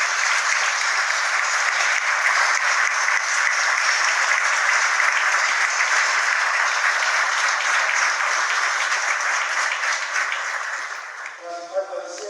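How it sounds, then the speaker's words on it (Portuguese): Large summit audience at CELAC applauds at length, a dense, steady roar of clapping that fades toward the end as a voice begins speaking. "quero pedir a todos uma grande salva de palmas para celebrar a volta do Brasil à CELAC"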